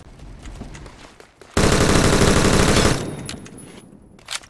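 A K1A rifle in the video game Phantom Forces fires a loud, continuous burst of automatic gunfire lasting about a second and a half, standing alone between quieter stretches of background game noise.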